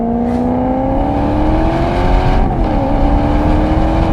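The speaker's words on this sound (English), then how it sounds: "let's take the old Maserati Gran Turismo for a drive, and instantly, oh my God, listen to that sound." An older Maserati GranTurismo engine runs loud and close while driving, giving a rich, throaty drone that rises steadily, dips briefly as it shifts, then climbs again.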